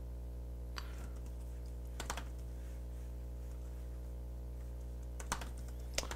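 Typing on a Galaxy Tab S3 Book Cover keyboard case, quiet soft key clicks coming in a few scattered bursts over a steady low background hum, close and alone with no talking.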